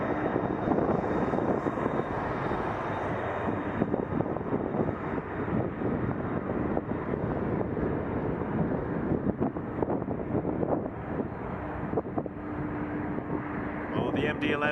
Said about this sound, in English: Oh, the MD-11.